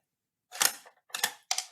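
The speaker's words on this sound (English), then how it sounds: "That's the shutter cocked. That means it's ready to go." A camera shutter cocked by pulling a string, heard as three sharp mechanical clicks and rasps in quick succession, close and clear against silence.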